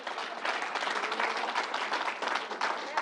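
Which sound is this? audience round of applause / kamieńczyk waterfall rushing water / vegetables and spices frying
audience round of applause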